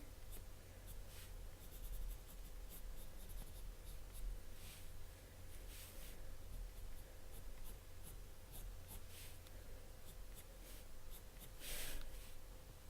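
Pencil drawing on paper during a pop manga colouring session, curving strokes along hair lines: soft, steady scratchy strokes that continue quietly throughout, with a brief brighter rub near the end.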